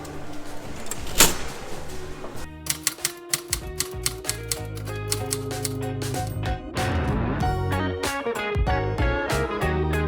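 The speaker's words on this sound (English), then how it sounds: "Are you typing?" Rapid, crisp keystrokes on a typewriter ring out in a steady run of sharp clicks, starting after a brief pause and continuing over a busy background of music and room noise.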